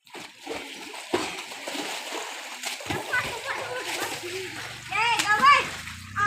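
Children splash and thrash in the water of a farm well, close and fairly loud, with a grandparent and kids talking and calling over the continuous sloshing.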